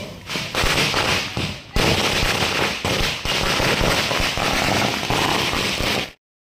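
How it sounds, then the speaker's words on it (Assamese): Diwali firecrackers bursting in a residential colony lane, a dense, continuous barrage of loud crackling pops and bangs that runs almost unbroken for about six seconds, with one brief gap early on. "আৰু পুৰা দিৱালীৰ ফটকা ফুটি আছে"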